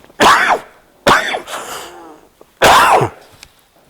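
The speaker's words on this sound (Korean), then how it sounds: "기침이 나는 것 같아요" Three loud, close bouts of a speaker's coughing and harsh throat clearing during a sermon, spaced about a second apart, with brief quiet between them.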